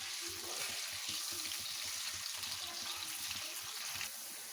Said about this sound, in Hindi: इनको हमने ये लाइट ब्राउन कलर में तब तक फ्राई करना जब तक इनका कलर लाइट ब्राउन ना हो जाए।